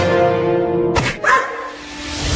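In a cartoon, a dog gives a single sharp bark, followed by a second brief yelp-like burst. Both cut through a tonal, music-like background that fades away afterward.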